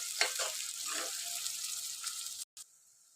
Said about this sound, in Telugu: కొంచెం సేపు ఫ్రై అయితే చేయాలి, ఎందుకంటే అల్లం పచ్చివాసన అనేది పోయేదాకా.